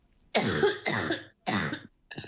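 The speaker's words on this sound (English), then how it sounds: "Massive headache and too much coughing." A person coughs in a series of four harsh, close coughs, with short pauses between them and a weaker final one.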